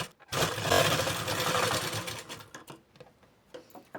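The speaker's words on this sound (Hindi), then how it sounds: "इसके ऊपर पे हमें कच्ची सिलाई लगानी है" Sewing machine running a tacking stitch on blouse fabric while a princess-cut blouse is made from an old one, a steady close mechanical whir that fades into scattered soft ticks and clicks, no talking.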